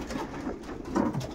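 Racing pigeons coo softly in a loft, a couple of low, throaty murmurs close by and fairly quiet, with no voices.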